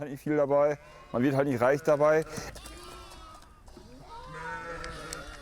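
Sheep bleat while grazing on public land, three loud quavering bleats close by followed by fainter calls and bleats from the flock further off.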